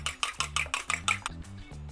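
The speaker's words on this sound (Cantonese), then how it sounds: "跟住發埋呢隻蛋先" A single egg is whisked in a bowl for a stir-fried vermicelli dish with egg and cabbage, giving quick, rhythmic clinks of utensil on bowl, about eight close strokes over a low steady kitchen hum.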